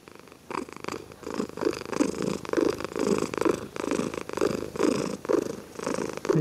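A cat purrs close and steady, the rhythmic rumble swelling with each breath in and out in a regular cycle, with no talking over it.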